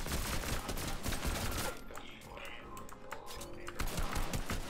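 Rapid bursts of blaster gunfire in a Star Wars stormtrooper video game, dense crackling volleys at the start and end with a brief quieter lull between, fairly faint overall.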